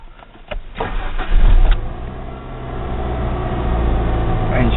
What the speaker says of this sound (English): Engine sounds okay,